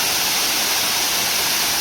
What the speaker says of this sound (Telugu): ఇదే గండాత్రి వాటర్ ఫాల్స్